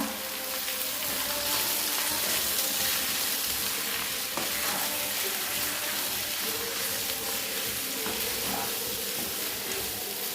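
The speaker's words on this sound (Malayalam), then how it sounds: "ഇനി നന്നായിട്ടൊന്ന് മിക്സ് ചെയ്തെടുക്കുക" Chicken and ground spice paste being mixed together in a frying pan, a steady close sizzle and hiss running throughout with soft scraping stirs underneath, no voices.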